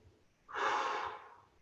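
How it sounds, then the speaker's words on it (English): A single deep breath drawn during a Foundation Training exercise session, a close, breathy inhale-exhale rushing in sharply and fading over about a second against quiet surroundings. "2 big breaths here."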